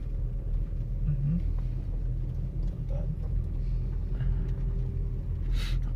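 Car engine idling after a power steering pump swap, a steady low rumble close by with faint brief sounds of movement on top and no talk.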